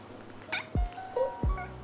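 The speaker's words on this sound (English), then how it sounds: "If you ever hear any little rustling noises, it is my cat Sylvie" A house cat gives two short, close meows, each ending in a low thump, plus a faint higher chirp, all within two seconds in a quiet room.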